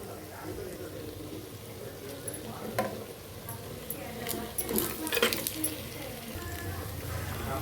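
Chicken sizzles steadily in a pan with ground masala, while a spoon scrapes and clinks against the metal in irregular bursts, close and continuous throughout.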